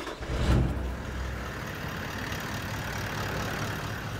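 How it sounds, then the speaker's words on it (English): A 4x4 vehicle engine idles before cleaning, a low steady rumble with a brief louder bump at the start, moderately quiet and without speech. "Make sure that the motor is running for a start."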